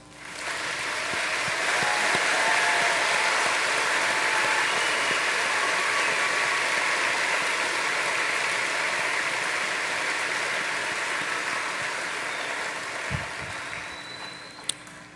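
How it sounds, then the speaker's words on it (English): A large crowd at a 2017 high school graduation commencement applauds the graduating students, a sustained, rain-like roar of clapping that swells early, holds steadily, then tapers off near the end. "let's give these students a hand of applause"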